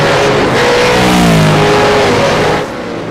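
A V8 race car engine roars loudly past a trackside camera at Okayama, a steady high-revving blare with rising pitch sweeps that fades slightly at the end.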